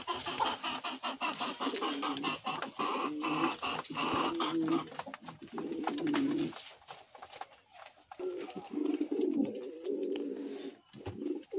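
Pigeons cooing continuously in a loft where nests have been built, with repeated throaty coos layered from several birds, fairly close and steady, with occasional sharper clicks and rustles.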